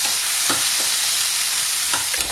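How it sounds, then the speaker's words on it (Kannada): Loud, continuous sizzling of ginger, cinnamon sticks and cloves frying in a pan, punctuated by a few soft scraping strokes of a spatula stirring the spices. "ಇದನ್ನ ಇವಾಗ ಚೆನ್ನಾಗಿ ಫ್ರೈ ಮಾಡ್ಕೊಳ್ಳೋಣ."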